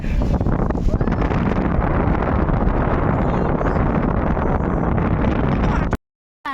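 Strong wind buffets the microphone outdoors among masses of blooming Ajar flowers, a loud, steady rumbling roar that runs unbroken for about six seconds before cutting abruptly to silence.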